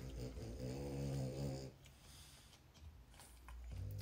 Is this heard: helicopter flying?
no